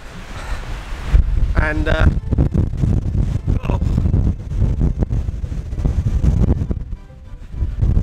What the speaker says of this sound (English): the wind is getting ridiculous